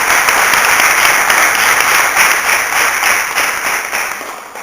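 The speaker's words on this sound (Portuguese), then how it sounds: "vamos aplaudir a palavra de Deus" Congregation at a church service applauding, a dense, steady wash of many hands clapping close and loud throughout, tapering slightly at the end, with no talk over it.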